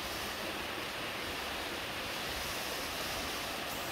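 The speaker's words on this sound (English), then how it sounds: "I'm gonna show you how heavy the rain here." Heavy rain pours steadily over a camp with a tent and dripping roof during strong wind, making a loud, dense, unbroken hiss throughout, with no voices.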